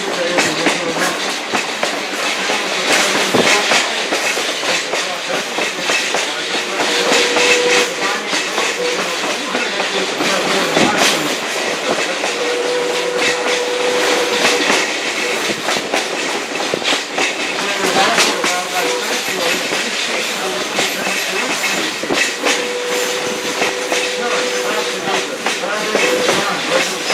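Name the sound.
Essex steam train carriage clickety-clack on rails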